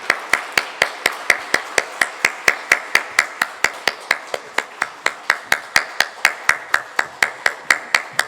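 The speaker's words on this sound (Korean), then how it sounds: "우리 크게 축복의 박수하겠습니다." A congregation at a family dawn prayer service in a church claps in a steady, rhythmic beat, sharp evenly spaced claps sounding together for the whole stretch.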